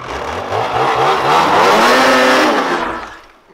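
An 800 race sled snowmobile engine revs hard close by, its whine climbing steadily in pitch and staying loud before dropping away at the end.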